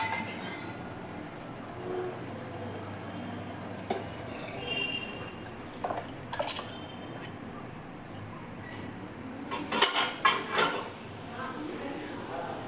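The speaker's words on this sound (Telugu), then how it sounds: "దీనిలో మనం కడిగి పెట్టుకున్నటువంటి బియ్యాన్ని పోసుకోవాలి" Washed rice is tipped into a pot of yogurt-cooked vegetables for vegetable biryani, giving a watery pour with clinks of utensils against the pot and a louder burst of scraping and splashing toward the end.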